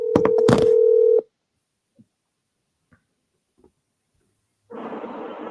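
A telephone placing a call: a burst of rapid touch-tone dialing beeps over a steady dial tone, then near silence with faint clicks, followed by a buzzing ringback tone.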